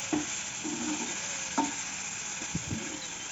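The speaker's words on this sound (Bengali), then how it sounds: "মাছগুলো দিয়ে আবার একটু কষিয়ে নেব। মশলার সাথে ভালো করে মাছগুলো মাখিয়ে নিচ্ছি।" Fish pieces are stirred and fried in spice paste in a pan, with a soft steady sizzle broken by several distinct scraping stirs of the spatula, close up and without talk.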